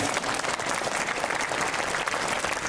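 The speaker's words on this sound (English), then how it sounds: "a big round of applause for all the participants who have come up from various" A school audience applauds participants at an inter-school quiz at St Thomas School, with thick continuous clapping from many hands filling the hall for nearly three seconds and no voices on top.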